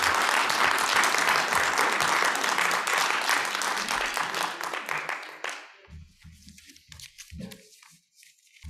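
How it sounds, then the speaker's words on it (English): Loud, dense audience applause fills the first five and a half seconds at a program event, then thins to a few scattered claps over quieter room noise. "Let's give her another round of applause, please."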